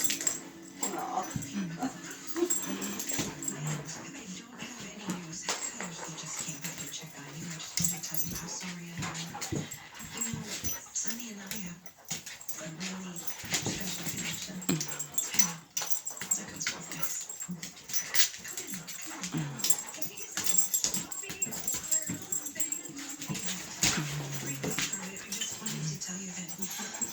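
A dog, apparently a young one meeting another dog, sniffs and gives soft whimpers and yips up close, with people talking over it throughout.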